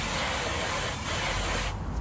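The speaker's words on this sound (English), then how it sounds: "Make sure you keep rinsing this." Water rinses a BMW Z3 M Coupe headlight lens during wet sanding, a continuous close hissing wash with faint rubbing that cuts off sharply near the end.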